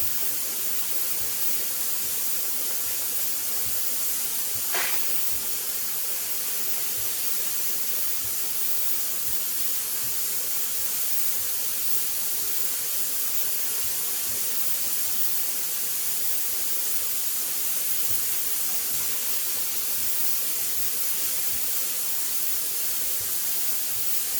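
Steam vents in a steady, loud hiss from a pressure canner processing tomatoes, a continuous rushing stream with one brief higher squeal early on, with no talk over it.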